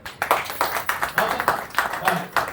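An audience at a business presentation claps in a quick, fairly regular burst of separate hand claps that continues steadily throughout, fairly close and moderately loud.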